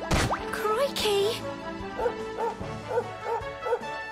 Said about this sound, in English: It's paralyzed with fear at the dog's barking.